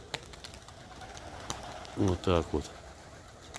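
Domestic pigeons give a few soft cooing calls, close by, with a faint flutter, while someone talks quietly over an outdoor background.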